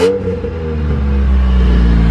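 Honda EK with new stainless headers and a small remaining exhaust leak, revving up from a sharp blip into a steady, rising drone. The engine is loud and close, with no talking over it.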